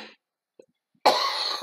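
A woman coughs from a throat tickle, with a faint sound and a tiny catch before it, then a single harsh, close cough that trails off.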